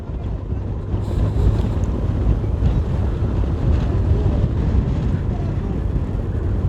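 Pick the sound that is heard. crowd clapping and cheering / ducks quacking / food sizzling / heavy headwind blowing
heavy headwind blowing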